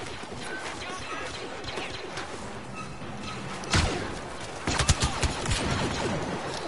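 Shotgun blasts from the video game Battlefront 1 sound as sharp, loud booms, one and then a quick cluster a second later, over a busy background of battle noise.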